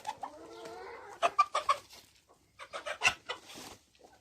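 Free-roaming backyard chickens clucking close by, a drawn-out call followed by a quick run of sharp clucks, then a brief pause and another burst, with no talk.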